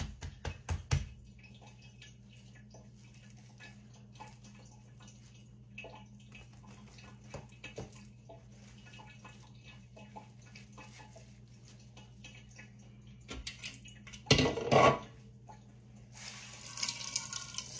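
Onion juice drips and trickles from squeezed onion while preparing hog head cheese in a kitchen: soft, sparse drips over a quiet background, with a brief louder splashing burst near the end.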